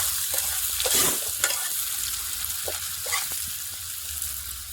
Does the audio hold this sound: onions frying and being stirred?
yes